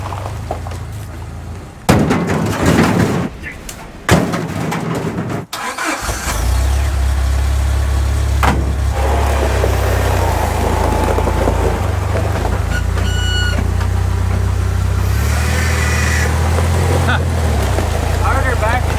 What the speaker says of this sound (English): back up the Jeep, which moves the trailer forward